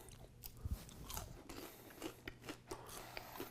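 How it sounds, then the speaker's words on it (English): Crunchy breaded keto chicken is bitten and chewed close up, giving a quiet run of crisp crackling crunches in an irregular rhythm. "I can't believe the crunch of this."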